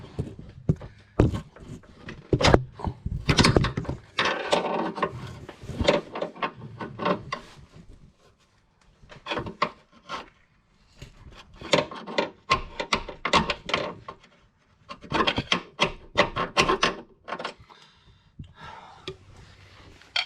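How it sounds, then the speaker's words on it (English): A long pry bar and small hammer working an alternator off an SRT4 engine: irregular clusters of metallic taps, scrapes and knocks, close and fairly quiet, separated by short pauses. "Giving it a tap with a long pry bar and a little hammer, and actually pushed it off"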